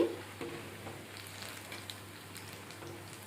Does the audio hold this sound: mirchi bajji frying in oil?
yes